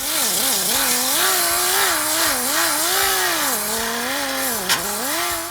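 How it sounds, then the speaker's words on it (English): A sander fitted with a 50 grit disc works over a car body, giving a loud, close, whirring whine whose pitch rises and dips as pressure on the panel changes, running continuously without speech. "So now we'll be moving on to a finer 50 grit sanding disc."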